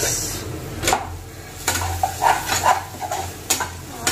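Onions frying in a pan while Hyderabadi biryani is prepared, a soft steady sizzle broken by several sharp scrapes and clinks of a utensil against the pan, close by and with no talking.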